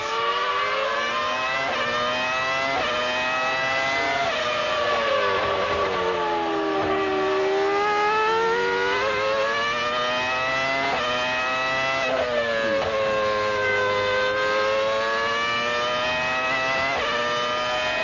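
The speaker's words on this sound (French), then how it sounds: "Allez, on écoute le moteur Mercedes." A 1998 Mercedes-engined Formula 1 car screams through gear changes at the Spanish Grand Prix, pitch rising and dropping repeatedly as it races, loud and close, with no talking.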